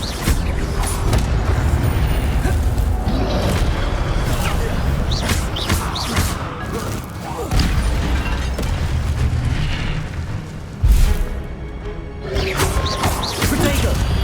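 Incendio fire spell cast repeatedly in the Hogwarts Legacy video game, heard as loud bursting whooshes and booms amid dense combat noise, with a voice calling out spells over the action.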